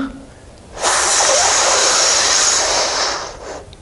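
Deep, steady inhale during a yoga breathing exercise, a loud close airy rush lasting about two and a half seconds that rises suddenly and fades out.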